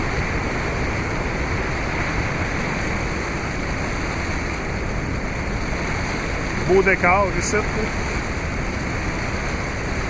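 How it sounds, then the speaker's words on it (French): A high, swollen river rushing steadily and loudly outdoors, a constant broadband roar, with someone speaking briefly over it near the end. "Là, la rivière est pas mal haute."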